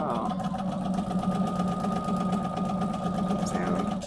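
Sewing machine chain piecing Route 66 quilt blocks runs in a steady, continuous mechanical whir with a rapid stitching rhythm, close and fairly loud.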